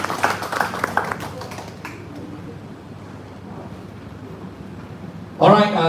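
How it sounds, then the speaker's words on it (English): Crowd applause at a charity livestream event at Hard Rock Cafe in Kuala Lumpur, a burst of clapping that fades into room noise before a voice starts talking near the end. "a big round of applause for Jude and his Daily Jude, ICAP and the gang"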